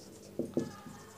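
Chalk or marker writing the definition of distance on a board in a physics class, heard as two short scratchy strokes in quick succession followed by a fainter third, set against a quiet background.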